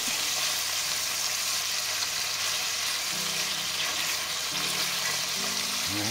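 Beef pieces sear in a hot pan for bœuf bourguignon, giving a steady, bright sizzle that holds at even strength throughout with no voices.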